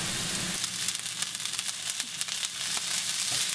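Black lentils sizzling in a frying pan with garlic while being stirred, a steady close hiss with soft scraping, no voices.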